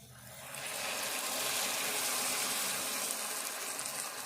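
Water pours from a glass into a pan of prawn and ivy gourd curry, a steady gushing splash that swells after a quiet start and holds, fairly soft and close.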